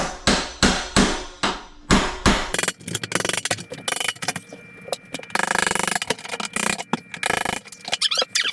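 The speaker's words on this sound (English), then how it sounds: "So go ahead and work the rest of these moldings out." A removal tool pries old moldings off around a doorway during installation of a new insulated steel entry door, giving a run of sharp knocks and taps followed by scraping, creaking and clattering trim, close and fairly loud.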